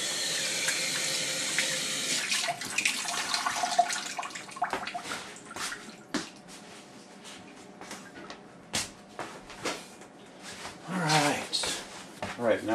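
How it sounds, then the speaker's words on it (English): Tap water runs steadily into a kitchen sink while lasagna ingredients are rinsed, gushing and splashing with shifting intensity; a voice speaks briefly over it. "Rinsing again."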